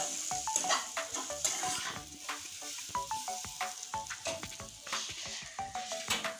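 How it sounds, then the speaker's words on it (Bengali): Potatoes frying in a pan, steady sizzle with repeated sharp scrapes and taps of a spatula stirring against the metal, close and fairly loud. "আর এইদিকে আমি আলু ভাজা বসিয়ে দিয়েছি"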